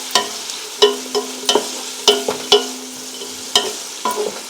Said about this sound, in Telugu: బాగా బ్రౌన్ కలర్ వచ్చే వరకు వేయించుకోవాలి.